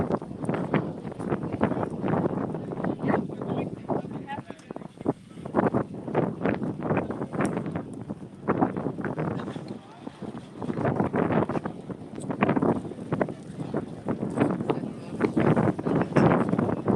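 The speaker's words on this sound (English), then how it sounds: "Oh, the breeze today." Gusty wind buffets the microphone outdoors at EPCOT in Disney World, a constant low roaring rumble that swells and eases across the whole stretch, loud and close, with faint crowd or voice sounds beneath it.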